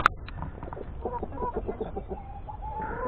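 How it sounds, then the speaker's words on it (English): Chickens in a backyard flock cluck in a quick run of short calls, close and clear, with a brief higher call at the start and a low murmur underneath. "Well, there's a pretty chicken."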